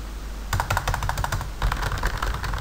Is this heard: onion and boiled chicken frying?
no